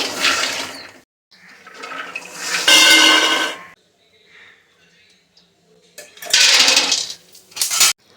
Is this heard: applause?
no